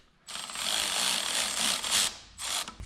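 Hose clamp being tightened on the fuel supply hose of a 12-valve Cummins engine, a close, continuous scraping, ratcheting rasp lasting about two seconds with a short second burst after a pause.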